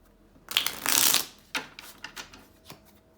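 Tarot cards shuffled by hand in a quiet room: a dense riffling burst followed by several shorter, softer card slaps and flicks that trail off, with no one speaking.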